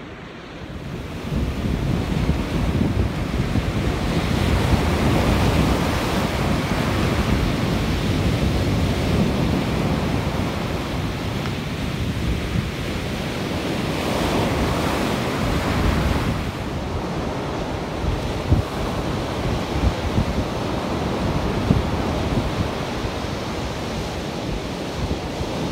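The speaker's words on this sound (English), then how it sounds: "pretty lively waves coming in." Lively sea waves break and wash on a shore in breezy wind, a continuous roaring surf with rushing surges and wind buffeting the microphone, loud and steady with no voices.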